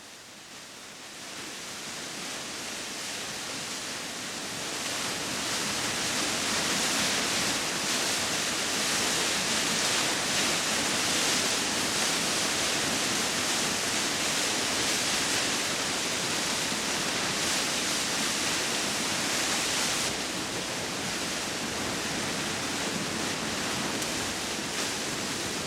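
A Korean mountain waterfall in the Baekdudaegan range roars as a steady broadband rush, growing fuller after the first few seconds and holding loud and continuous with no voices.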